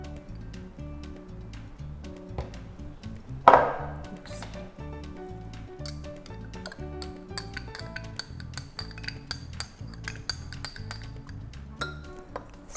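Spoon stirring an iced vanilla latte in a 16 oz cup, rapid repeated clinks and taps of metal against the cup with ice rattling, plus one louder knock early on, fairly close and quiet.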